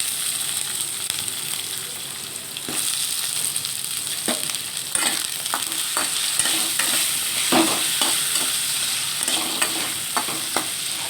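Chickpeas and onions stir-fried in a pan, a loud steady sizzle broken by repeated scraping stirs and soft knocks, with no voices.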